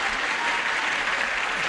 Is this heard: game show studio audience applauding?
yes